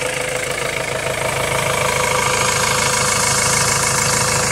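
A 2.2-litre Ford Transit diesel engine with an idle problem linked to its fuel metering valve runs close by, producing a loud, continuous idle with a rough, knocking pulse and no talking.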